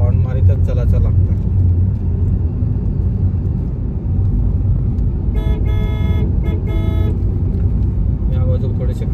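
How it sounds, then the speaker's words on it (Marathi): A car horn toots in a few short bursts on a narrow mountain road with sharp bends, sounding over steady engine rumble and road noise while people talk. "हॉर्न मारीतच चलायचं लागतं"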